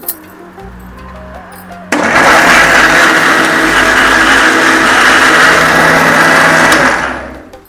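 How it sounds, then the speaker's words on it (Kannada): After a quiet moment, a mixer grinder blending bananas into paste without water roars on loudly, whirring steadily for several seconds before winding down. "ಇದನ್ನು ಮಿಕ್ಸಿ ಮಾಡ್ಕೊಳ್ಳೋಣ ಅಂತ ನೀರದು ಏನೂ ಹಾಕೋದಿಲ್ಲ ಡೈರೆಕ್ಟ್ ಇಷ್ಟ ಮಿಕ್ಸಿ ಮಾಡ್ಕೊಳ್ಳೋದು"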